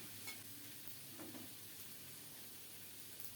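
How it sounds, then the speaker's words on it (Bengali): Whole cumin seeds dry-roasting in a pan give a faint, steady sizzle and light rustle of stirring, with a slightly brighter scrape about a third of the way through. "এদিকে একটু গোটা জিরা টেলে নিচ্ছি"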